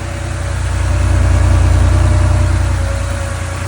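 A Porsche 911 G-Model 3.2 Carrera flat-six runs steadily at idle, loud and close, a continuous low rumble with no voices over it.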